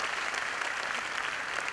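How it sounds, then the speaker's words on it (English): An audience at a student awards felicitation claps in dense, steady, continuous applause, loud and sustained throughout. "you should not really stop clapping"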